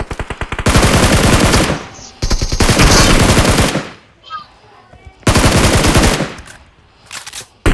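Loud bursts of rapid automatic gunfire in the video game BGMI, several long strings of shots separated by brief pauses, with a voice speaking briefly between them.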